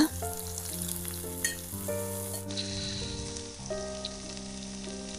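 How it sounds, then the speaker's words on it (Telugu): Cinnamon, cloves and cardamom frying in a pan for a beef curry give a soft, continuous sizzle heard beneath louder background music. "దాల్చిన చెక్క రెండు లవంగాలు యాలకులు కూడా వేసి ఫ్రై చేసుకుంటే"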